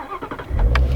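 A Ford Mustang GT350 engine cranking over several quick beats and then catching into a loud, low rumble close by.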